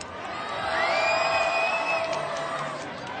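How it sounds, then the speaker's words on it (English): An audience at a Pokémon Diamond & Pearl launch event in the Nintendo World Store cheers and whoops to welcome Masuda and Omori, a swelling burst of crowd noise with a high whistle-like shout that then fades. "I want to hear a humongous round of applause"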